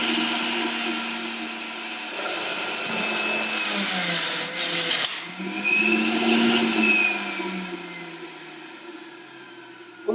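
An electric juicer runs steadily while pressing carrot and cucumber into juice, a loud sustained whirring drone with a brief dip in pitch midway as produce is pushed through, then a rising hum before it stops.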